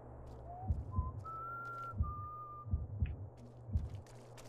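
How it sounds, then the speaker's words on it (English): Someone whistles a thin, drawn-out tune in the stealth video game Manhunt. The whistling is faint and distant, with a few separate notes over a soft rhythmic thumping and low ambience. "I can hear whistling."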